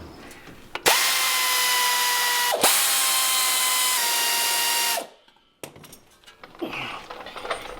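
A power tool whines loudly in two sustained bursts of about four seconds in total while removing the axle shield on a 2009 Dodge Cummins 2500, followed by quieter workshop clatter.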